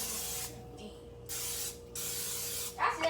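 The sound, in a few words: cooking spray on pan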